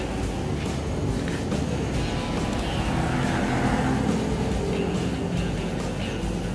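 A small handheld gas torch burns with a steady, continuous roaring hiss, fairly loud and close, holding constant with no pauses and no talking.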